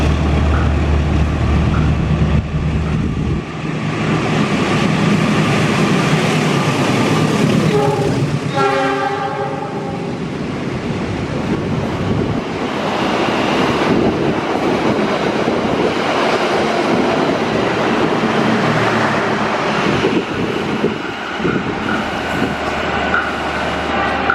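The Walahar passenger train rumbles steadily past at Klari station, loud and close, with a horn sounding partway through and continuous wheel and carriage noise throughout.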